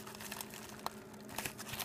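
A small plastic packet holding artificial aquarium jellyfish crinkles as it is handled, soft close rustles with a couple of sharper crackles, quiet and without talk.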